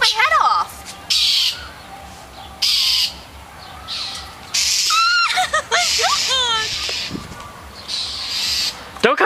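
A bird gives harsh squawks and rising, chirping calls in repeated bursts at fairly close range, with people talking over much of it.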